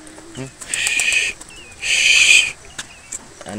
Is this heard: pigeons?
yes